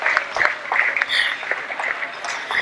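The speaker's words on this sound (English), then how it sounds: "Give him another round of applause." A crowd at a Cape Verdean gala claps steadily throughout, a dense patter of hands at moderate volume with no break.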